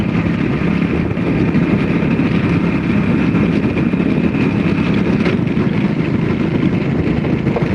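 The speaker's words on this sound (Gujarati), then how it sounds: "જો આ ટ્રેક્ટર જઈને આવે છે રહ્યું" A tractor hauling sacks of coal drives past on a salt-desert track in Kutch, its engine a loud, steady, close rumble with no pause and no talk over it.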